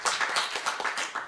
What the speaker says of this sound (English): give one last round of applause to our amazing panelists